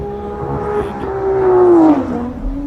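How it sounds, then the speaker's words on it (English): A 1984 Audi 4000 race car climbing the Pikes Peak hill climb course, its engine note droning steadily and rising in pitch as it accelerates, fairly close and loud with no voices over it. "The sound of that car is just spectacular."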